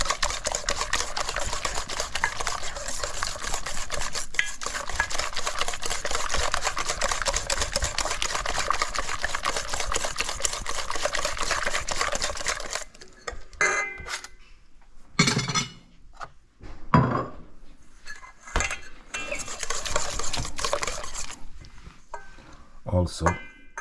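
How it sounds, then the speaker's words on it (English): A whisk clatters and scrapes against a bowl of crushed bananas and yogurt for muffin batter, steady and busy at first, then breaking into scattered separate taps and strokes. "we're going to just whisk this for a little"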